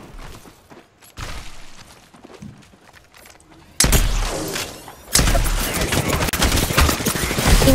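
Gunfire in the Apex Legends video game comes as dense, rapid bursts that grow louder and almost continuous in the second half, with a player's voice talking over the action.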